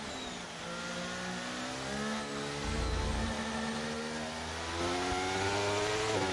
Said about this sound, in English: Traction control kicking in there, you can hear the revs just drowning out a little bit.